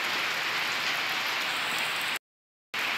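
Rain from Typhoon Odette pours down steadily in Cebu City as a dense, loud hiss of drops on surfaces. The sound cuts out briefly near the end, then resumes. No one speaks.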